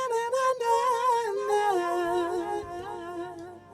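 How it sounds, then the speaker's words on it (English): A sung vocal line with echoing repeats trailing behind each note, giving a spacious, delayed sound; steady and fairly loud, no talking. "which is also kind of a delay effect"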